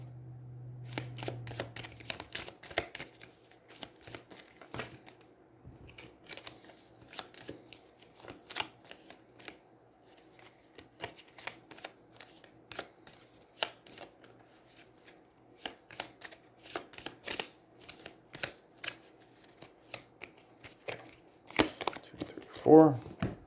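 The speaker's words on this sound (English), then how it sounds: "He shuffles his deck." Cards are shuffled and handled repeatedly in quick, soft riffling bursts, close up, while a player shuffles a deck in the card game Aeons End, with a brief low hum at the start.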